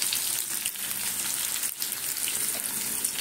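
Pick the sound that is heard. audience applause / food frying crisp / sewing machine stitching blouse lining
food frying crisp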